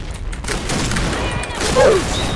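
Dense, continuous gunfire from the video game Point Blank fills the clip as a steady, loud wash of shots and game noise, with a faint voice in the mix.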